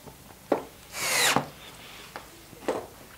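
A screw being driven into a plywood jig to fix a guide in place, with a sustained burst of driver whir and grinding about a second long framed by a few sharp knocks and taps of wood, close and alone with no talking.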